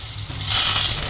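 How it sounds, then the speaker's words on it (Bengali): Potatoes fry in hot oil in a pan until golden brown, ahead of a ridge gourd fish curry, giving a brief, close, continuous sizzle and hiss with no talking. "এটা আমি একটু গোল্ডেন ব্রাউন করে আগে আলুটা ভেজে নেবো"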